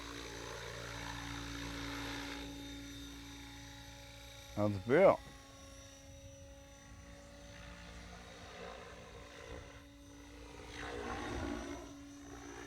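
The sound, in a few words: RC helicopter flying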